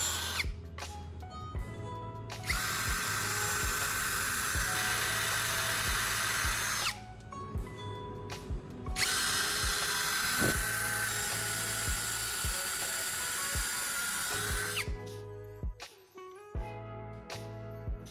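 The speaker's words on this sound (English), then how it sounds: "Then, I switch to a step drill bit to widen the outer part of each hole." A step drill bit bores into a caster wheel to widen holes, two long loud whining runs separated by a pause, with short bursts and taps of the tool at the start and end.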